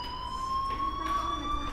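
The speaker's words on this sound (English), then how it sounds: "do you hear that fire alarm? That means you should be outside." A fire alarm in the Life is Strange video game rings as a steady, continuous electronic tone, moderately loud and unbroken, with faint background noise beneath it and no talking.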